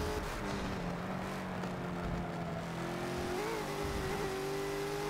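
Bentley GT3 race car in Forza on the Hockenheimring, engine droning steadily as it accelerates, pitch climbing through gears with a brief shift step; loud and continuous, no talk.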